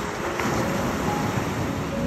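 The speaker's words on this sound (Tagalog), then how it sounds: "rinig nyo ba yun kung gaano kalakas yung pressure ng alon?" Strong ocean waves break on the sand at Casapsapan beach in Casiguran, Aurora, making a steady, loud, unbroken roar of surf that continues for the whole stretch with no talking over it.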